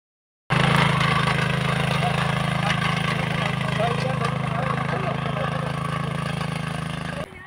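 A tractor engine runs steadily in a village field in the Uttarakhand hills, a loud, close, continuous drone that starts abruptly and holds for about seven seconds without voices.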